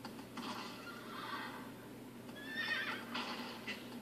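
A horse in the video game Shadow of the Colossus neighs repeatedly, several loud whinnies with faint hoof clops over a low steady game hum, as the horse falls.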